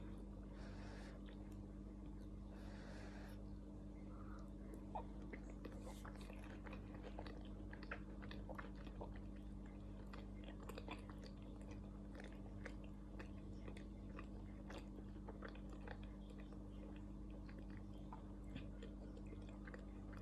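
Close, moist chewing and soft biting of a mouthful of biscuit with peppered sausage gravy in a home kitchen, steady and quiet throughout with a low background hum and no talking.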